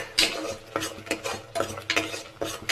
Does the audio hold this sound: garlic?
yes